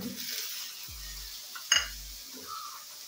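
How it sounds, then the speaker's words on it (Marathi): Chopped onion goes into a pan of hot oil with cumin, mustard seeds and chili, giving soft sizzling and a couple of stirring clinks from a utensil against the pan, heard close. "कांदा टाकूया।"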